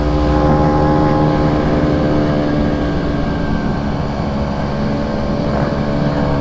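A Vespa scooter engine runs steadily and loud throughout, a dense, continuous motor drone with a buzzing harmonic whine and no speech.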